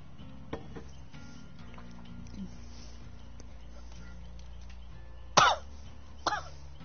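Two distinct coughs, the first sharper and the second softer, break through a quiet background of faint game and room sound during a Dead by Daylight session.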